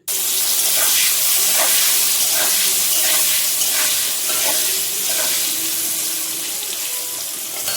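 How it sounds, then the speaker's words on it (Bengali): Soybean-chunk potatoes fry in a large wok of hot oil, giving a loud, dense, continuous sizzle that stays strong and even throughout, with faint crackles and no voices. "বড় কড়াইটা বসিয়ে দিয়েছি এখন এর মধ্যে আমি ভেজে নেব সোয়াবিনের আলুগুলো"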